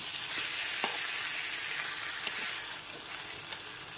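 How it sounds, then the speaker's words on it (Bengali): Hilsa fish head and Malabar spinach curry frying in a pan as sugar is stirred in, a steady soft sizzle with a few faint scrapes of the spoon, close and unaccompanied by talk. "চিনিটা দিয়েও খুব ভালো মতো মিশিয়ে নেব"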